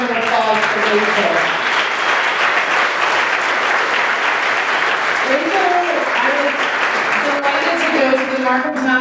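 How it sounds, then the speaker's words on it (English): Sustained audience applause for a young singer at a campaign launch event, dense and steady clapping throughout, with a voice or two rising briefly over it. "Let's hear another round of applause for Rachel."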